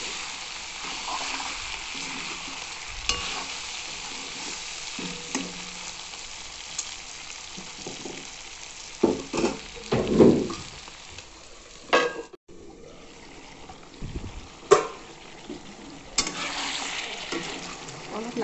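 Pork pieces fry in a pan, unboiled beforehand, giving a continuous crackling sizzle with intermittent louder stirring clatters and scrapes near the end, close and fairly loud.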